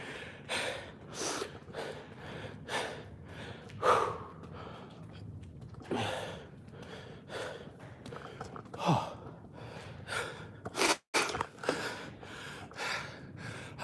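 Heavy, tired breathing after sprint training: a steady run of loud, close gasps and sighing exhales, roughly one per second, with no talking.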